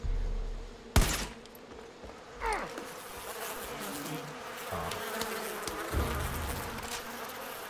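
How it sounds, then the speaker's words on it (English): An angry bee swarm buzzing after a nest is shot in the video game Far Cry 5, a dense, steady drone close by, with a sharp gunshot-like crack near the start. "It's never a good idea to shoot bees' nests."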